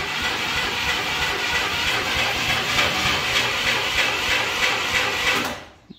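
A burnt, abandoned old Chevrolet Nova, unstarted for 30 years, runs roughly with a loud, close, hissing rattle and uneven pulsing. The sound then cuts off abruptly at the end.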